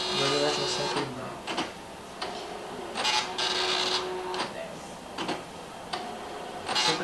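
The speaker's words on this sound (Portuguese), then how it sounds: "Essa impressora é meio devagar para gráficos, mas ela imprime muito bem." A compact printer, slow with graphics, prints a map, its print head sweeping back and forth in repeated mechanical passes with clicks between strokes, close, with faint voices around it.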